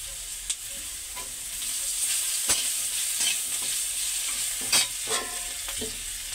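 Onion, potato and spices fry in a pan, giving a soft, steady sizzle with occasional scraping clicks from a spoon stirring the mixture, close and fairly quiet.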